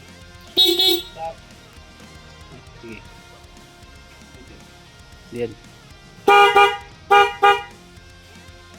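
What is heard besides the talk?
motorcycle horn honking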